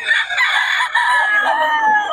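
A rooster from a seller's flock crows loudly and close by in one long, sustained, strained call lasting about two seconds, heard on its own.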